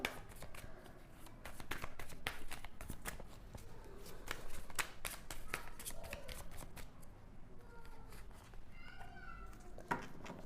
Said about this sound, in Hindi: तो उसके लिए मैं एक कार्ड निकालती हूँ।